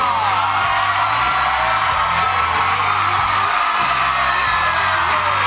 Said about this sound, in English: let me introduce you to all of your fans who are screaming for you